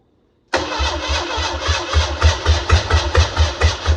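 A 1982 Ford Mustang saved from the scrapyard, throttle held wide open, bursts abruptly out of silence as it starts and then runs in a loud, close, rhythmically pulsing chug.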